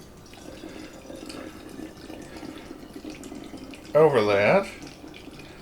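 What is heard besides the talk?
pouring vodka through a funnel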